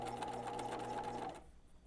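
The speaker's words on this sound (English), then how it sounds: "And we're gonna back stitch. Be careful not to stitch on that metal stop." A sewing machine runs a fast, steady back stitch along a skirt seam, its close, even whirring hum holding for over a second before stopping abruptly, leaving near silence.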